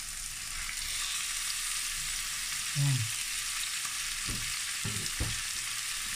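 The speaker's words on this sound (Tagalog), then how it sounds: "igigisa natin siya sa luya, bawang at sibuyas" Chicken gizzards sautéing in a pan with ginger, garlic and onion, giving a steady broadband sizzle with a few brief stirring knocks and scrapes partway through.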